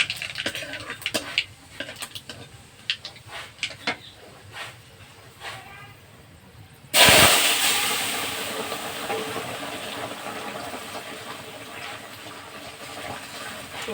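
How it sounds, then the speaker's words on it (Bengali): Vegetable curry is tossed into hot oil with black cumin and green chilli. Light utensil taps and scrapes come first, then a sudden loud, hissing sizzle bursts up and slowly settles into steady frying. "এবার শুধু এইভাবে তরকারিটা ভাজতে হবে।"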